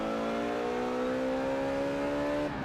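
A Maserati accelerating in the Forza racing game, its engine note climbing smoothly and steadily for over two seconds, loud and close, with no talk over it.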